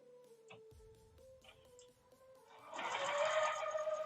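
A sewing machine stitches through layers of fabric, starting up after quiet clicks and running steadily with a close, buzzing whir for the last second and a half.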